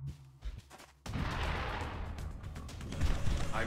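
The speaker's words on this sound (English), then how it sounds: "I'm taking heavy fire." Heavy gunfire in the XCOM Long War game: quiet scattered sounds first, then an abrupt, loud, sustained roar of overlapping shots and blasts that swells toward the end.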